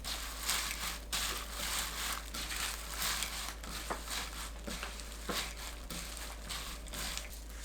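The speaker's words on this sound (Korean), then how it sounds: "멸치, 사과 넣고 버무립니다" Soft, close crinkling and wet patting as anchovies and apple are tossed together in sesame-oil and syrup seasoning, a quiet, irregular rustle with brief sharper clicks.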